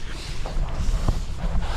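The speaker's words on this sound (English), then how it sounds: "it's bloody windy" Strong wind buffets the microphone on a Lake District hillside campsite at Crag Hill, a loud, rumbling low roar with gusty surges throughout.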